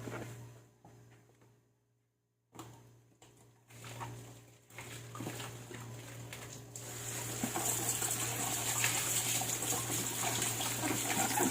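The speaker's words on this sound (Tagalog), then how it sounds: "Okay, banlawan natin." Running water from a tap rinses something foamy and soapy in a basin, starting after a quiet pause and building into a steady, fairly loud gushing flow that continues to the end.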